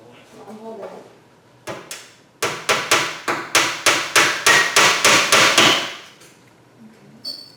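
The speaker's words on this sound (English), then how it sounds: "Now we're going to nail the trim piece on the front." Hammer driving nails into a wooden front trim piece on a shelf, about a dozen sharp evenly spaced knocks in a steady run, close and clear, with brief talk before and after.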